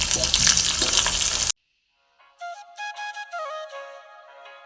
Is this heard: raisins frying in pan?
yes